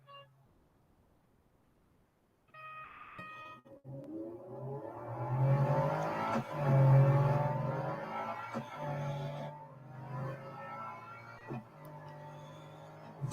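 Race cars in the mobile game Real Racing 3 accelerate and rev, engine tones rising in pitch with gear changes and passing whooshes, with a sharp click at the start and moderately loud, steady motor drone throughout.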